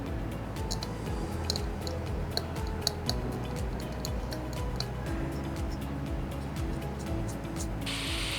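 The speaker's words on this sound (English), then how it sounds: "Gently scrape the solder pad to expose the lines." A small tool scrapes solder pads on an iPhone logic board in fine, rapid, ticking strokes that keep a steady rhythm under a low background hum.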